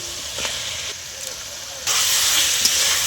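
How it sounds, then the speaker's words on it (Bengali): Spice paste of green chilies, salt and ginger-garlic paste is sautéed in a pan for chicken patiala, hissing and sizzling steadily up close, then growing louder partway through. "মশলাটা আমি ভালো করে কষে নিচ্ছি।"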